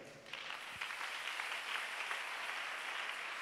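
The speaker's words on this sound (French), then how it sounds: "Est-ce que tu peux encore acclamer le Seigneur?" A church congregation applauds and cheers for the Lord, sustained clapping that starts after a brief lull and holds steady, filling the room for several seconds.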